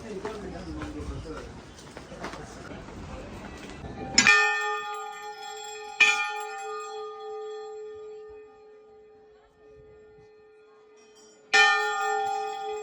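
A bright metal temple bell rings out, struck three times with long ringing decays between strikes, following a stretch of people talking and ambient noise.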